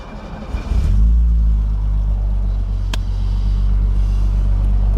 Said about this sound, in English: Alrighty, let's fire this up.